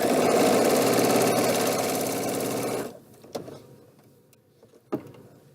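Sewing machine stitching a quarter-inch seam in quilting fabric, a close, fast, steady mechanical whir for about three seconds before it stops, followed by a few soft handling clicks.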